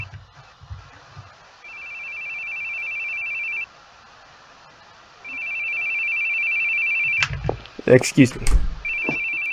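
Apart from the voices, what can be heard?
telephone ringing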